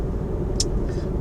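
An electric car rolling downhill from a mountain summit, a steady low road rumble inside the cabin with a brief faint hiss on top.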